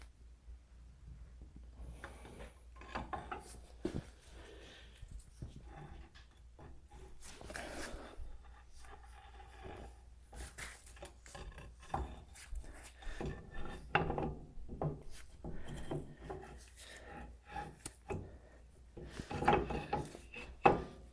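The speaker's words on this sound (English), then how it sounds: "and then we'll put the axle shafts in." Jeep axle shafts being slid into the axle housing during an inner axle seal replacement, giving faint irregular metallic scrapes, rubs and clunks at close range over a low background hum, with no speech.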